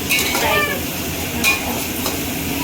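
Chicken frying and being stirred in a pot for south Indian biryani: a steady sizzle with short scraping stirs, close and fairly loud.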